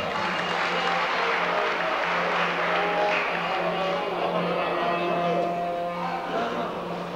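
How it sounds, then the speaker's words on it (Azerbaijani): A crowd at a religious wedding celebration in a Lankaran fishing village applauds in a dense, steady wash of clapping that lasts the whole stretch, with a faint low hum underneath. "Bir gözəl alqışlar gəlsin bizim bəyin şəhərindən."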